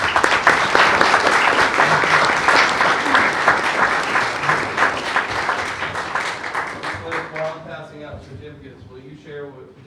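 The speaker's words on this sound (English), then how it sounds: "Let's give these ladies a round of applause." Audience applause at a school district regular board meeting, a full, sustained round of clapping that tapers toward the end as a voice starts speaking underneath.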